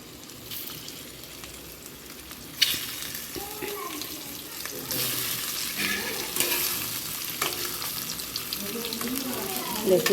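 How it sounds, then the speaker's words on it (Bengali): Potatoes frying in hot oil in a wok, a steady broadband sizzle with intermittent clatter and stirring scrapes, fairly close and moderate in level, with no talking. "তেলটা দিয়ে আলুগুলো একটু লাল লাল করে ভেজে নেব।"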